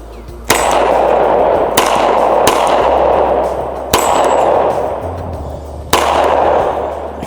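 Four sharp pistol shots fired at a steel dueling target on an outdoor range, loud and spaced a second or two apart, each with a ringing tail and no talking between them.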